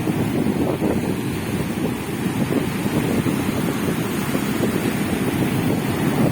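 Open blue sea waves where the deep water runs calm, a continuous low wash and rumble heavily mixed with wind buffeting the microphone, steady throughout with no voices.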